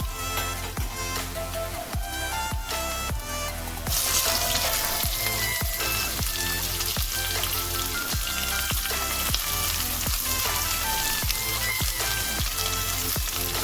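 Onion frying in oil in a pan: a steady close sizzle and crackle with rapid pops, growing louder and brighter after about four seconds as fresh onion hits the hot oil, with no talking.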